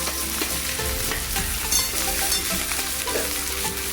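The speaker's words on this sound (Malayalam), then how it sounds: "ഇതിലേക്ക് നമുക്ക് സവാള അരിഞ്ഞിട്ട് കൊടുക്കാം" Chopped onion frying and being stirred in hot oil with coconut pieces for a kadala curry, a steady close sizzle with scraping stir strokes throughout and no talking.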